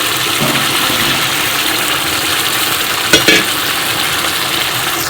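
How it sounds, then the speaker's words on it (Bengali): Fried potatoes are stirred into spiced oil in a pan for a vegetarian soybean curry, a loud, steady sizzle with a couple of brief scraping clatters from the spoon. "এর মধ্যে ভেজে রাখা আলুগুলো দিয়ে দিচ্ছি"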